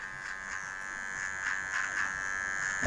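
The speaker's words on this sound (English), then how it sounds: "I'm just using a trimmer here just to clear the area" An electric hair trimmer buzzes steadily close up while clearing hair on the neck during a low fade haircut, with its tone wavering in a series of short strokes.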